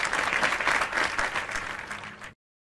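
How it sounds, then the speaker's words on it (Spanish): Children's audience applauding two teams at a pool games event, a dense burst of clapping that fills the moment and then cuts off abruptly. "¡Un fuerte aplauso para los dos equipos!"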